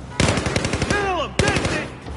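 Rapid automatic gunfire in the video game Battlefield 4, with a fast burst of close, loud shots, a shouting voice over it, then a second burst.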